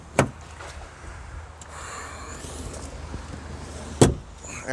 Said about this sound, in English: Get some more doors open.